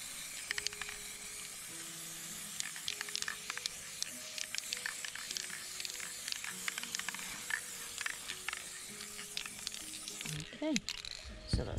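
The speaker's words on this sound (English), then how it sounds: "just use the spray lacquer. Stand up to do this and just spray a good distance," Bursts of hissing spray lacquer from an aerosol can, sprayed from a distance onto painted stones, come in short repeated puffs, with quiet speech and clatter around them.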